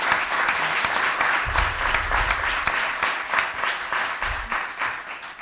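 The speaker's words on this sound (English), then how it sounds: "So I think that deserves a round of applause, actually." Audience applause at a Sewing Rooms ambassadors event, a sustained dense round of clapping from a room full of people that carries on steadily throughout.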